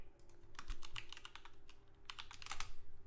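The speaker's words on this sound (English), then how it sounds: "Why am I so bad at typing?" Rapid bursts of keystrokes on a computer keyboard, close and fairly quiet, with two clusters of clicking separated by a short pause and no talking.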